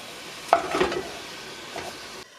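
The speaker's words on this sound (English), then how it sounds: "we're going to saute the ground beef" Ground beef sautéing in a pan gives a soft, steady sizzle, with a couple of louder stirring scrapes near the start. No one speaks.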